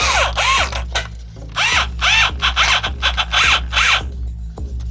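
A power drill bores screw holes through a wooden pedal board. Several short, loud whirring bursts come in a steady on-off rhythm, each one rising and falling in pitch, heard up close.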